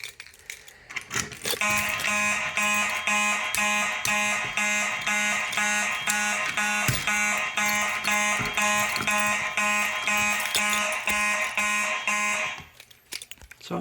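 A building fire alarm system under test sounds a loud, steady pulsing horn pattern that repeats rapidly for about ten seconds and then stops abruptly.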